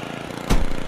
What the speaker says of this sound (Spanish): Tranquilo, te paso el cortacésped.